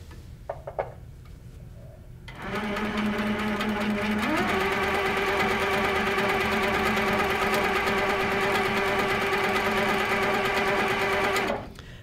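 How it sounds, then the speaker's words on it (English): A sewing machine stitches a test seam to check thread tension: a few soft clicks of handwheel and needle setup, then a loud steady whirring run with a brief rise in speed, stopping abruptly near the end. "I'm going to start stitching and then check my tension."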